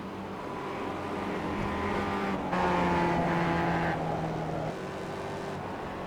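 Mazda MX-5 race cars running at Suzuka circuit, a steady loud engine drone with rising and falling pitch as cars pass and change gear, no talking.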